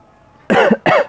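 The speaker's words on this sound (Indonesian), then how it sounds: "batuk tenggorokan." Two sharp, loud coughs in quick succession from someone who has just eaten very spicy chili peppers, close to the listener after a short quiet pause.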